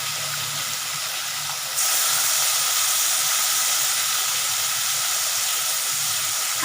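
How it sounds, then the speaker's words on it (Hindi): Fish pieces for a Bihari mustard fish curry drop into hot oil and fry with a loud, dense, steady hiss that jumps louder partway through as more pieces go in, continuing without talk. "कुछ फ़िश के पीसेस मैक्सिमम इसमें डाल के मैं फ्राई कर ही दूँ इसको"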